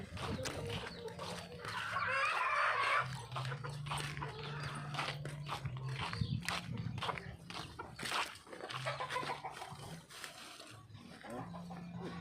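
Chickens clucking and fussing nearby amid a busy farmyard, with goats and other animals calling and a person talking over the noise.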